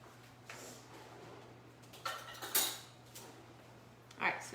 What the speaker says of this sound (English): I need a spoon, I need to grab a spoon